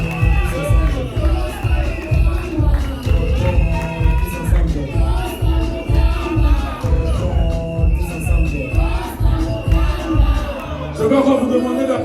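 A crowd at a political rally in Congo chants and claps in a strong repeating rhythm with shouts and cheers, loud and close throughout, with a brief change near the end.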